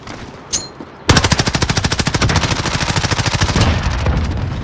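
An MP5 submachine gun in a video game lets off a single shot, then fires a long sustained burst of rapid, evenly spaced loud reports for about three seconds, followed by a few scattered shots.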